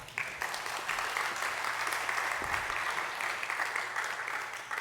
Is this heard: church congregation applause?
yes